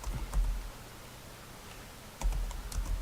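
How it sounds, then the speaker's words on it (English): Short bursts of quick typing on a computer keyboard come at the start and the end, with a quiet pause between them. "then type in like tabletop"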